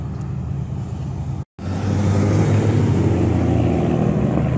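Several cars pulling away from a car meet, a Mustang and a Golf GTI among them, their engines rumbling loud and steady after a brief cut, a continuous low roar with no talking.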